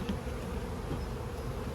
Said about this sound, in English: this is a very solid hive. Even if it's our aggressive one, they're not really aggressive right now